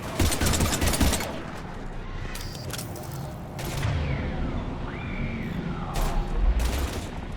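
Gunfire fills a Mass Effect 3 battle scene, with dense bursts of rapid shots up front and scattered blasts and booms later. A rising whine sweeps through the middle, and mechanical clatter runs loud and continuous throughout.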